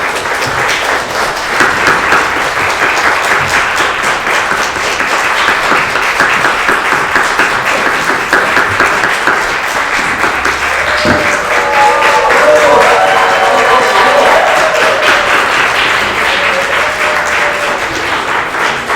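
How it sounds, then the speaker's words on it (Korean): A graduation ceremony audience stands and applauds during a degree conferral service, long continuous loud clapping with a crowd murmur, and a voice rising briefly partway through. "여러분은 전체 일어나서 박수로 해주시고요"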